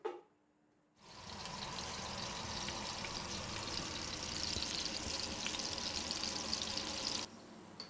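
Onion frying in hot oil for a Pakistani chicken pulao: after a quiet second, a steady bright sizzle starts abruptly and holds evenly, close and moderately loud, then drops off near the end, with no voices.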